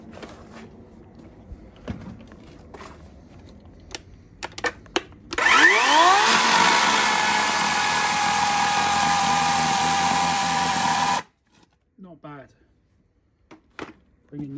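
A budget Cobra cordless chainsaw cuts through wood in one steady, loud buzzing burst of about six seconds, with its motor starting up before the cut. Quieter handling clicks and thumps come before and after.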